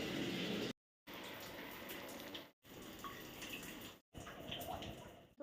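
Water runs steadily from a tap or shower during a bath, a continuous gushing splash with brief cut-off gaps, fairly close and alone without talk.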